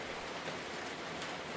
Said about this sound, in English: The sound of the rain deepened again, though not in volume